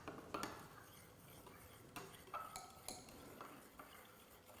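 A utensil stirs a banana DNA extraction mixture in a glass container, giving soft scattered clinks and taps at low volume.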